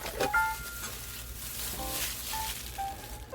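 Lao papaya salad being mixed with seasoning, a continuous wet stirring and tossing with soft clatter, moderately loud and close, with a few faint tonal squeaks.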